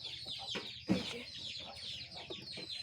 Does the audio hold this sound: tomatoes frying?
no